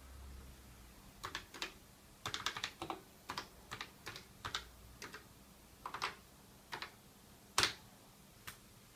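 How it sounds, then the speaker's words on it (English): Someone types on an Apple II computer keyboard, with quiet, close key clicks coming in irregular bursts and short pauses against a faint background hum. "You can post a tweet just simply by typing it in."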